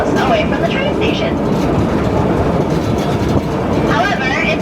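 Rumbling Hawaiian Railway train ride, a steady loud roar of the rolling cars with faint squeals and rattles throughout, voices talking underneath.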